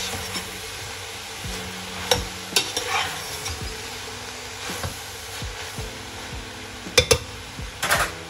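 Food is stirred in a pan over heat, with a low sizzle underneath and several sharp scrapes and clinks of the utensil against the pan, clustering near the start and toward the end.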